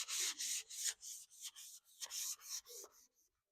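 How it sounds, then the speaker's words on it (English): Rhythmic scratchy rubbing of folded sandpaper by hand on pallet wood and 2x4 guitar body, about a dozen short back-and-forth strokes, close up and quiet, ending in silence. "just fold my paper over and do it by hand"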